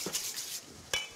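A whisk lightly beats egg yolks with sugar in a bowl, giving a few quick scraping clinks and then one sharper knock near the end. The sounds are close and fairly soft.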